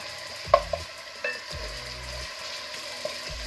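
Garlic and ginger, then onion paste, sauté in oil for Lahori-style chole, a low steady sizzle punctuated by a few spoon knocks and scraping stirs against the pot.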